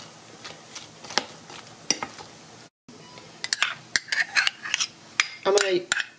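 A spoon scrapes and clacks against a bowl while vegan German potato salad is mixed with mayonnaise, giving irregular clinks and soft wet stirring with a brief pause midway and busier scraping toward the end, with no talking.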